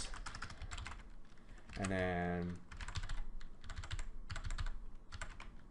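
Fingers type on a computer keyboard while filling out a web form, a close run of quick, light key clicks in uneven bursts, with a brief voice and a tonal beep in between.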